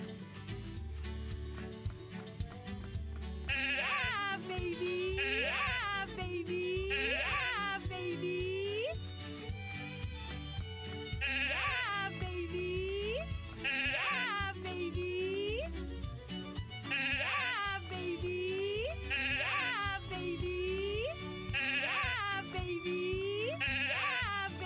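Sheep in a video game bleat over and over in a steady, repeating pattern of wavering calls, layered over a continuous bed of game music and ambience.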